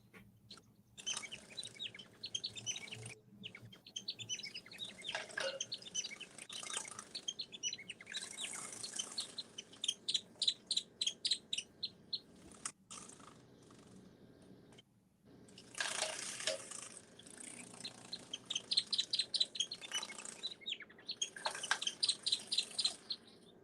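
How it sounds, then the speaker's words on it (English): Birds chirp and trill in quick repeated bursts, with short pauses between songs, over a soft watery background. "I was just listening to the soothing chirping of your birds"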